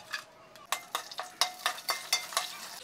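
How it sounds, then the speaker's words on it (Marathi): Whole spices such as bay leaf, cinnamon, black cardamom, star anise and cloves fry in hot oil, with faint sizzling under a series of quick metallic spoon clinks and scrapes from stirring in the pan. "आता याला मस्त तेलात असं भाजून घेऊया"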